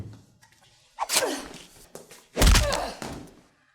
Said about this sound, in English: all I really need is his body falling and hitting on the ground noise there